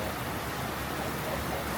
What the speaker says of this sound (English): that noise is the rain